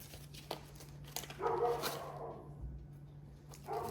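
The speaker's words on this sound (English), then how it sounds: "The dog is out the back, so has decided to bark." A dog out the back of a house lets out a few muffled, distant barks and yips, spaced irregularly over a quiet indoor room tone.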